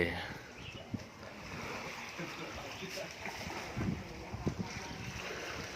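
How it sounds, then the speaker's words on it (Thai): A small local fishing boat, the Kaew Thale, comes in to the shore at Ban Bang Maruat in Panare, Pattani, a steady wash of water and wind noise with a few splashes and knocks, voices faintly underneath. "มีเรือเข้าพอดีหนึ่งลำนะครับท่านผู้ชมครับ"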